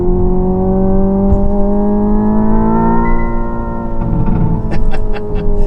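A Hyundai Ioniq 5 N driven in N mode gives off a loud, close synthetic engine note that climbs smoothly in pitch as the car accelerates, dips briefly and rises again, with a few clicks near the end.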